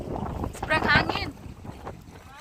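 Strong wind rumbles against the microphone in uneven gusts as people talk close by, their voices partly drowned by the blowing.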